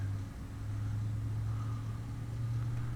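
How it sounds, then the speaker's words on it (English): Fuel truck engine idling at an airport ramp in a flight simulator, a steady low rumble with a constant hum, moderately distant and unchanging throughout, with no talk. "Okay, so I can hear the fuel truck"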